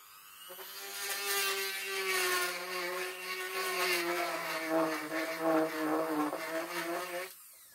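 Handheld Dremel rotary tool with a small bit drilling holes, a high, buzzing motor whine that wavers in pitch as it bites into the material, running steadily for several seconds before cutting off, close by with no voices.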